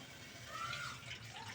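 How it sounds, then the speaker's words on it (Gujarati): Water is poured in again while whole stuffed karela (bitter gourd) cooks, a faint, steady splashing pour lasting a moment with no talk. "આપણે ફરી વખત પાણી ઉમેરી દઈએ છીએ"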